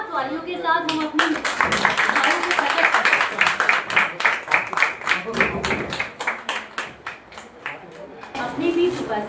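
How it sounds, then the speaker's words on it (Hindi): An audience at an Ayurveda Day seminar gives loud, sustained applause, dense clapping that swells and then thins into separate claps before picking up again. "जोरदार तालियों के साथ हम अपनी"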